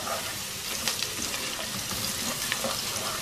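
Chopped onion fries in hot oil with whole cumin and spices, giving a close, continuous sizzle flecked with small pops and crackles, no voices over it.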